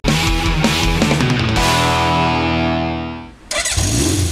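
A Honda CB750 motorcycle engine cranks and fires, settling into a loud, steady close-up idle before a brief drop and a renewed burst of engine noise.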